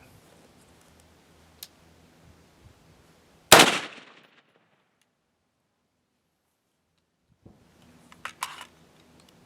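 A Colfax Tactical AR-15 mid range rifle fires one sharp, loud shot outdoors after quiet, with a quick decaying report, then silence before faint metallic clicks of the bolt and handling.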